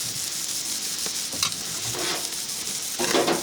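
Pork chops cooking on a barbecue grill, an even background sizzle broken by several brief scrapes and a louder rustling flare of hissing near the end, with no voices.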